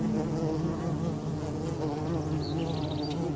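A steady, close buzzing hum of many bees flying around their small colony in the Atacama Desert, continuous and droning with no voices.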